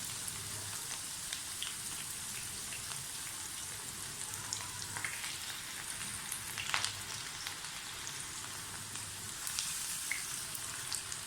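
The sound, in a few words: moong dal frying in oil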